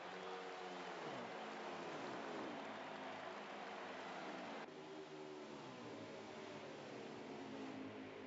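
Race car engine droning steadily on a chase cam in a Kentucky all-star oval racing video game, a continuous loud roar with shifting pitch bands and a brief dip near the middle.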